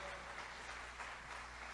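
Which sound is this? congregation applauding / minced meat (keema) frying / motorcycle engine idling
congregation applauding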